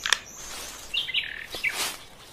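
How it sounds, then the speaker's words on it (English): Chirping sound effect from a Gacha animated video: a few bright, quick tweets and warbling bird calls, fairly close and clear over a quiet hiss. "Hey, that looks like a new bird."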